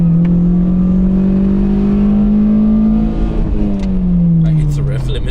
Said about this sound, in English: I hit the rev limiter